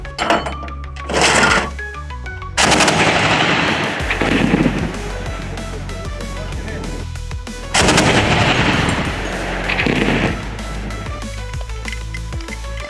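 A ZU-23-2 twin-barrel anti-aircraft gun firing in loud, sustained bursts, with two long volleys of rapid booming shots separated by shorter pauses and reverberant rumble, heard at close range with no talk.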